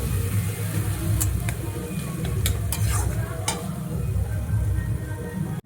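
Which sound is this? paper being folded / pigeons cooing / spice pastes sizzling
spice pastes sizzling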